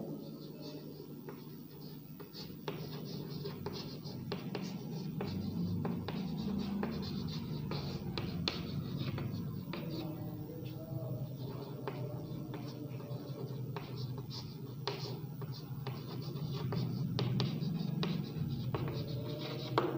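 Chalk or marker writing an example on a classroom board during a Hindi grammar lesson, a series of short scratchy strokes in irregular bursts, close and fairly quiet, with a low background hum.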